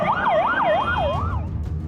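An ambulance siren on a road wails loudly and nearby in repeated rising and falling sweeps, then thins out toward the end.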